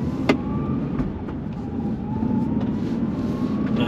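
A 2012 Nissan 370Z with its 3.7 engine and about 50,000 miles pulls away on a road, a steady engine drone with a few sharp clicks and knocks, no talking.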